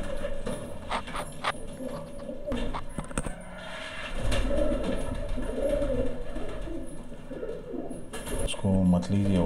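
Pigeons in a loft setup in Balapur, Hyderabad coo in soft, low, repeated murmurs alongside wing flutters and shuffling, close by, while someone talks throughout.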